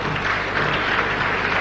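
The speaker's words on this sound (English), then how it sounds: "We must give him another applause" Audience applause at a Quran-versus-Bible debate in South Africa, a steady, dense wash of clapping from a crowded hall that continues without a break for the whole moment.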